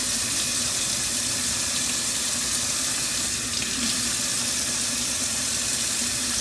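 Tap water runs steadily into a kitchen sink as broccoli pieces are rinsed, a constant close splashing hiss with no talking.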